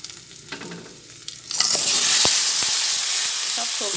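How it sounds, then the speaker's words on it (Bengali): Steamed potato, carrot and other winter vegetables are tipped into hot oil with spices, bursting into a loud, steady sizzle after a quieter stir, with spoon scrapes and clinks continuing through the frying. "সব একসঙ্গে ভাজা হয়ে এসছে, সেই অবস্থায় সবজিগুলো এর মধ্যে ঢেলে দিচ্ছি।"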